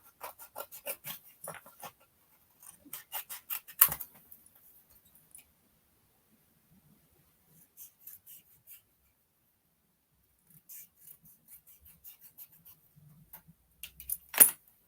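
Scissors snip through a paper rectangle in quick bursts of close, crisp cuts, pausing between strokes, with faint paper rustling in an otherwise quiet room.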